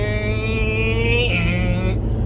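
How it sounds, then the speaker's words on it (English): Ordinary small car's loud engine drone while driving, steady harmonic hum heard from inside the cabin, rising slightly then easing off near the end. "my car is loud"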